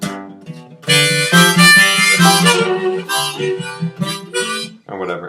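Harmonica played folk-blues style, blown through several holes at once for chordal tones, in bursts of rich harmonic chords with short gaps and a brief softer phrase at the end; no talking.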